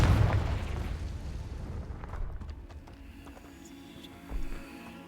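A Confringo spell explosion in Hogwarts Legacy: a loud booming burst at the start that rolls off into a fading rumble, with a second smaller thump near the end over a quiet ambient music bed.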